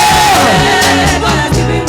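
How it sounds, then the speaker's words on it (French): Crowd at a French-language worship gathering letting out joyful shouts and cheers, a loud dense wash of voices with whoops rising over it. "Les cris de joie,"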